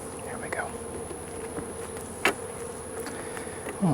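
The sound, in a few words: honey bees buzzing in a hive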